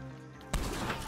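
A gunshot in Red Dead Online, one sharp blast halfway through followed by a brief rumbling tail, cutting in over a quieter humming background.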